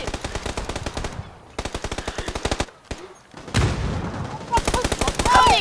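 Rapid bursts of gunfire in the battle royale game PUBG, including shotgun blasts, come in several loud clusters of closely spaced shots with brief pauses between them.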